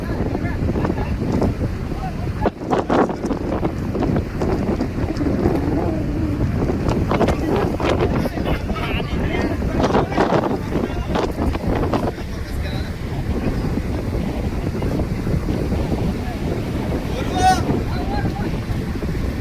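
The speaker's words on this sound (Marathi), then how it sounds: "मित्रांनो, इथे वारा सुद्धा खूपच वाढलेला आहे, तुम्हाला समजत असणार." Strong wind buffeting the microphone at sea aboard a Koli fishermen's boat driving poles, heavy low rumbling gusts mixed with wave and water noise throughout, loud and continuous with a few sharp knocks.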